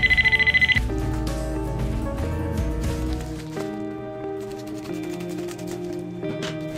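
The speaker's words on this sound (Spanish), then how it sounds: "ahora va a sonar el celular" A cell phone rings after being triggered from a Bluetooth GPS tracker: a loud, rapid buzzing ring bursts out at the start, then gives way to a steadier melodic ringtone that plays on alone.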